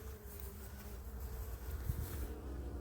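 Steady low buzzing of many honeybees around a hive, a continuous droning hum with no voices.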